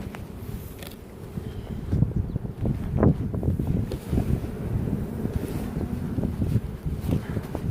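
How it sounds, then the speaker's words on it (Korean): Wind blows across the microphone outdoors during fumigant spraying, producing irregular low rumbling gusts and buffeting throughout, fairly loud and close. "바람이 불어서"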